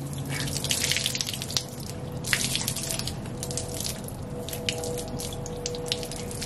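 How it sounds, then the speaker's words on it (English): Dirty water is squeezed out of a pond filter sponge, pouring and dripping steadily at close range for several seconds, a continuous splashing trickle without speech. "squish it and make all that nasty dirty water come out"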